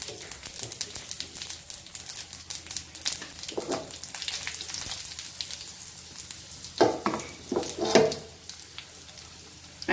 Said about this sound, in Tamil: மிளகாயும் இப்படி தான் வறுப்பணும்